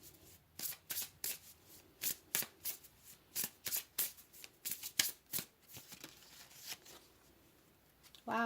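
Tarot cards are shuffled close by in a long run of quick, crisp riffling bursts, roughly a dozen and a half, each a few tenths of a second long with short pauses between them, and no talking.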